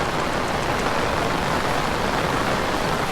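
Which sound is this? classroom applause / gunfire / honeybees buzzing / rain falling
rain falling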